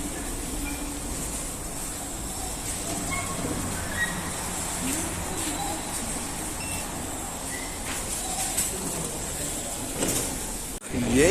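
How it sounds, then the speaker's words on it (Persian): Riding a metro train in Russia: a steady rumble of rolling carriages and track noise fills the cabin, with faint squeals and a door clunk near the end, and some muffled voices in the background. "الان دارم میرم به سمت مترو، سوار مترو شدم"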